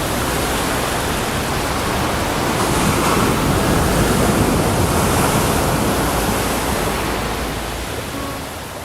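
Sea waves breaking on a beach near Thalassery in Kannur, heard as a steady, loud roar of surf blended with wind rush, continuous for the whole stretch with no voices.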